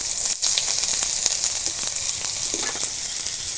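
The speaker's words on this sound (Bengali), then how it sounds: "এবার দিয়ে দেবো পেঁয়াজ কুচি" Chopped onions sizzle in hot oil for a green banana fry, a steady close frying hiss with faint stirring clicks and no talk.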